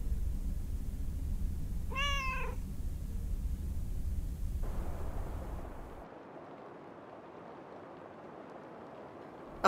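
A single cat meows in a short rising-and-falling call inside a PS5 indie game set near a lake, over a low ambient drone that drops to quiet near the end.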